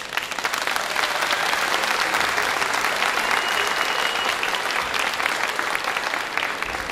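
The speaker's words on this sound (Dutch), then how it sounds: "Dus voor die mensen alvast een hartelijk applaus" Diners at the WRZV Christmas dinner give warm, sustained applause, with dense even clapping from many hands filling the whole stretch at a steady level.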